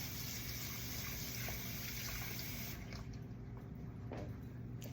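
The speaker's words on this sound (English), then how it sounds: "Wash your brushes out really, really well before you return them to the cup." Water runs steadily from a tap while paint brushes are washed, giving a constant, close, fairly faint gushing hiss with small splashing changes and no voices.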